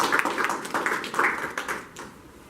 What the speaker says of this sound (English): So I just want to give them a round of applause before we start.